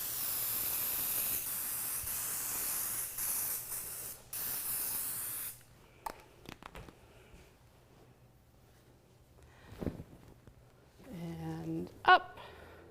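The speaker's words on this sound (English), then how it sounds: "And spray again." A steady spray of aerosol basting adhesive hisses for about five seconds while making a quilt sandwich, then stops; soft handling clicks and rustles follow, with a brief voice near the end.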